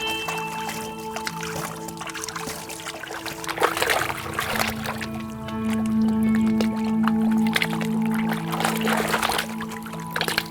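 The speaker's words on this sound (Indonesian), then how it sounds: "Siram pelan-pelan." Water is poured slowly into a gold-panning dish holding concentrate, trickling and splashing steadily for about ten seconds outdoors, over a constant background hum and without clear speech.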